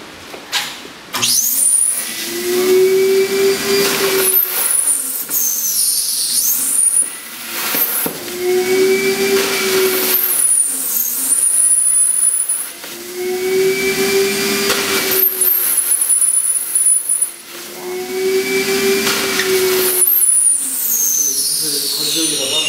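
A modified vacuum cleaner used as a dehydrator in hanji paper making whines loudly in four long cycles, starting up and winding down each time, with people talking over it.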